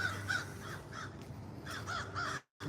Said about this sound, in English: You hear the motherfucking crows and birds and all that shit, and the sun coming up.